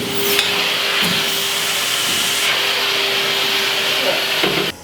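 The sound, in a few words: vacuum sucking water off a wet screen-printing screen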